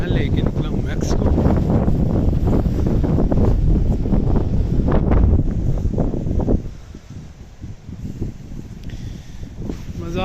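Strong wind on a windy morning in Ireland buffets the microphone with loud, gusty rumbling for about six seconds, then eases to a softer rush, while someone talks over it.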